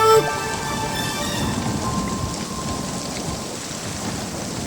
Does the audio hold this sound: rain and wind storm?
yes